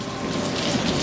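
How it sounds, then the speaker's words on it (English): Spring rain falling steadily and fairly loud, a dense continuous patter of drops on surfaces outdoors, with no voices heard. "Are you enjoying this spring's first rain?"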